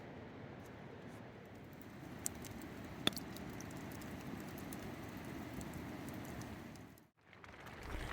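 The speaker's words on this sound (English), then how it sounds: "Unfortunately, the rain came early" Early morning rain falling on a forest campsite, a soft, even patter close by and fairly quiet, with a couple of faint taps and no voices.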